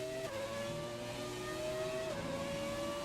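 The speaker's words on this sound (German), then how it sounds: "wir fahren mit dem Williams FW, also Frank Williams 18. Und das Auto ist von 1996" A 1996 Williams FW18 Formula 1 car in the game F1 2017 drones at high revs, its engine note shifting with gear changes, steady and continuous with no talk.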